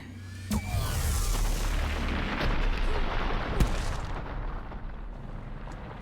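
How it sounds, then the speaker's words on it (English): A Reaper fires its weapon in a Mass Effect 3 battle: a loud, sustained roaring blast with a sharp boom partway through, over a dense wash of combat noise. "Did we just get shot by a Reaper?"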